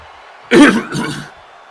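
A single close throat clearing from a wrestling commentator, a short rough burst followed by a softer second rasp.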